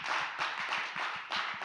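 An audience at a church student-department online worship service gives applause for a teacher, a close, brisk run of hand claps at an even rhythm with no speech.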